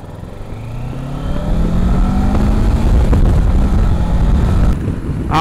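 A Kawasaki Versys 650 motorcycle being ridden, its engine note climbing steadily under acceleration amid strong wind rush, loud and close throughout with no talk.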